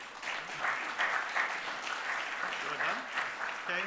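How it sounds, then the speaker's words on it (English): Audience applause at a planning congress closing ceremony, a steady wash of clapping over about four seconds, with a voice faintly audible near the end. "Big applause to Rajendra and Matej"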